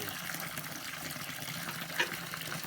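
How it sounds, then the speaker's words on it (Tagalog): Water pours steadily from a storage tank, a constant broadband gush with a small splash near the end, fairly close and moderately loud. "Ayan po ang aming tubig."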